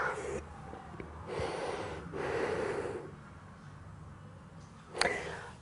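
During a Pilates rest pose, forehead resting down over the feet, a person takes a few slow, audible breaths in and out near the microphone, soft and unhurried, ending with a sharper intake.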